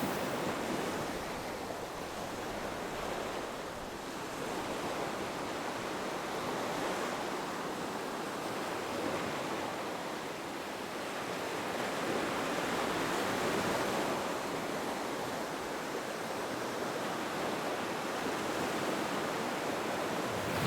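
Ocean waves and wind wash steadily past a sailboat under sail off a headland on the coast near Brunei, a broad continuous rushing surf noise with gentle swells in loudness and no talking.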